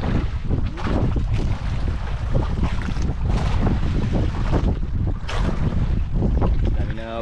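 Strong wind buffets a fishing boat at sea, a constant loud roar of gusts and microphone wind noise with water wash beneath, steady throughout with no clear speech.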